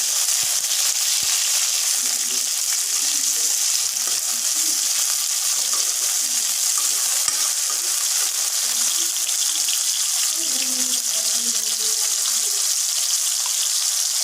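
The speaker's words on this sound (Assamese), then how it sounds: "এতিয়া চাওক, মই ইয়াত বিলাহীখিনি দিছোঁ। এইখিনি ভাজি ল'ম।" Tomatoes added to onions frying in a pan, giving a steady moderate sizzle with scattered clinks and stirring sounds over about fourteen seconds.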